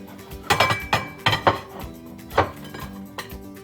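Kitchen sounds while assembling banh mi sandwiches: a lid set back on a container and dishes clinking, several sharp close knocks and rattles in uneven bursts, with quieter clinks between, no voices.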